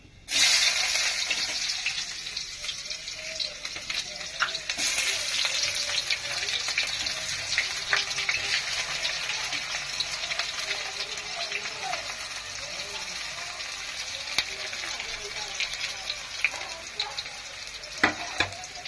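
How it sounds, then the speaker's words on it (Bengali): Chopped onion frying in hot oil with green chilli already in the pan, a steady loud sizzle that runs throughout with occasional stirring scrapes close by. "এবার আমি কাঁটা পেঁয়াজটা দিয়ে দেবো।"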